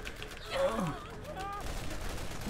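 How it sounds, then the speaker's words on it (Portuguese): Rapid gunfire from the video game Borderlands rattles in a dense, continuous burst of shots, loud and busy from start to finish, with no clear talking over it. "Meu Deus, tô levando tiro, não sei de onde."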